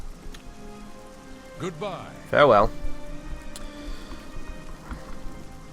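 Steady rain pours down in the fantasy role-playing game Oblivion, a soft continuous hiss throughout, while a character speaks briefly in the middle.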